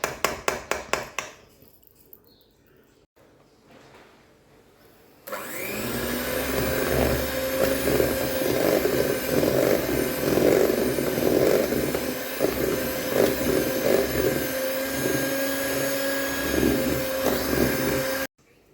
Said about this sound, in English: I'm going to get my blender out, my handheld blender, and I'm going to start whipping this